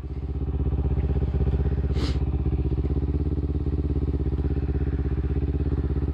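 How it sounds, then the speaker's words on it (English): A motorcycle engine blips up in revs during a rev-matched downshift, a steady mid-pitched thrum that swells once briefly near the start, close and continuous with a faint clattery texture. "you can hear my RPMs go up and my bike doesn't jerk"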